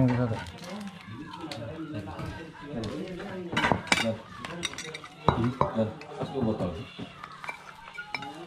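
Plates, cutlery and glasses clink and clatter through a shared meal at a fish pond, with frequent sharp chinks rising over steady chatter from several people talking.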